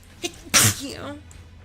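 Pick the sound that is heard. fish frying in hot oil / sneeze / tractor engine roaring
sneeze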